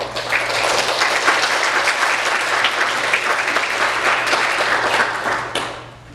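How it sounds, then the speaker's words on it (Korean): A church congregation applauds to welcome visitors, producing steady, dense clapping from many hands that fills the room and fades out at the very end. "잠깐 일어나 주시면 박수로 환영하겠습니다."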